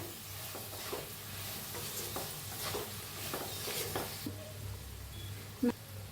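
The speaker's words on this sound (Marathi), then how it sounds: "आणि एक 5 मिनिटं हलवून असं शिजवून घेऊया" Potatoes cooking with crushed peanut powder are stirred in a pan, with a series of soft rhythmic spoon scrapes over a low, quiet sizzle and a sharp clink near the end; no talking.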